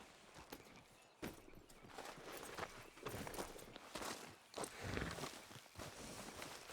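Horse hooves clip-clopping at a steady riding pace in the video game Red Dead Redemption 2, rhythmic close thuds over outdoor ambience, fairly loud and without talk.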